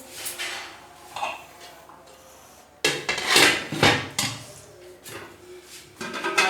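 Cooked rice is spooned from a cooking pot onto a plate in a home kitchen, with scraping, clinking metal utensil and dish knocks coming in uneven bursts, louder clatters in the second half.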